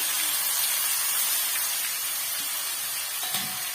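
Onions added to a hot pan for onion thokku, frying with a loud, steady broadband sizzle and hiss that fills the whole stretch, with no talking.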